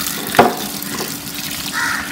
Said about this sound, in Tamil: அப்புறமா தண்ணி ஊற்றிக்குங்க.